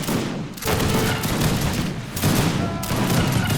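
Sustained crackling bursts of Maxim gun fire in an Age of Empires 3 battle, dense rapid volleys in loud overlapping waves with brief dips between them, no voices.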